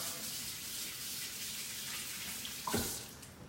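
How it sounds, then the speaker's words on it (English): Kitchen tap water running steadily to rinse off a spatula, a continuous close hiss with a brief louder splash near the end. "Let me rinse off my spatula."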